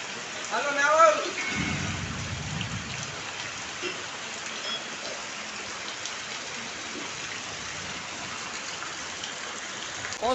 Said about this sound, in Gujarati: બહુ ખતરનાક વરસાદ આવે ભાઈ ભયંકર